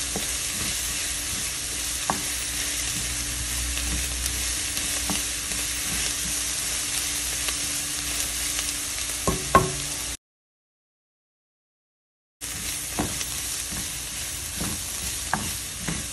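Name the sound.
garlic frying in pan for lentil soup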